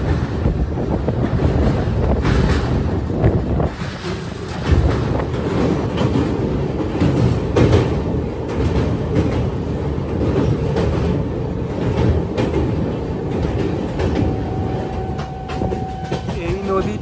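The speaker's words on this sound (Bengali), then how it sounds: "আমাদের ট্রেনটা এখন যাচ্ছে।" Howrah–Puri Superfast Express (12837) running along the line near Cuttack, a steady loud rumble of wheels and carriages with wind buffeting the microphone throughout, continuous and close.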